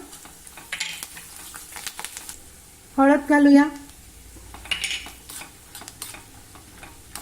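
Spices and curry leaves sizzle and crackle softly in hot oil for tempering while a person speaks briefly midway; the sizzle continues quietly before and after.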